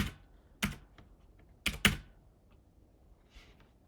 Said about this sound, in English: I have to type something.